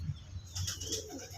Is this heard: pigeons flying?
yes